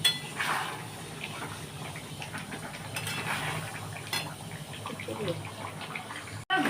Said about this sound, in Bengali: আচ্ছা, এটা একটু চাপা দিয়ে দেবো।